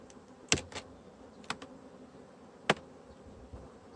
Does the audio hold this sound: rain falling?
no